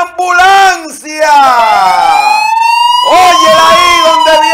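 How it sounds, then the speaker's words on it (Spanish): A loud wailing ambulance siren sweeps up and down in close, repeated rising and falling tones, filling the whole stretch with its piercing electronic howl. "¡Óyela ahí donde viene la ambulancia!"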